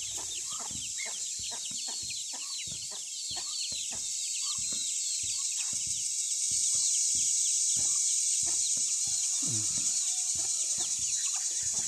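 Hen with a brood of twelve newly hatched chicks on a farm, a steady chorus of high chick peeps running throughout with occasional soft clucks from the hen, close and loud, with no talking.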